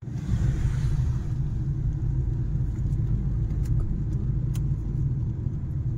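A vehicle drives along a road with a continuous low engine rumble and road noise at steady loudness. A few faint clicks and rattles come through above the drone, with no talk.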